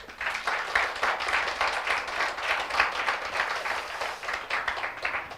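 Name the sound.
church congregation applauding to welcome visitors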